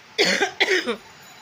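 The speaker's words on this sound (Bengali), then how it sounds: "এখন আমার কাশিটা এখনও রয়েছে কমেনি" Two harsh coughs in quick succession, close and fairly loud, followed by quiet.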